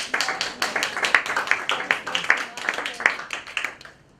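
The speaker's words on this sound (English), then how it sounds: "Let's give Alina a round of applause" An audience claps for a presentation speaker, a steady patter of close hand claps that thins out and fades toward the end.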